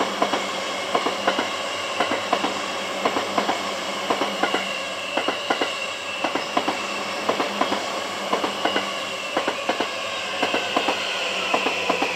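A train passes near Engakuji in Kamakura, Japan, its wheels beating a regular clickety-clack rhythm over rail joints under a steady rolling roar, close and sustained, with no voices.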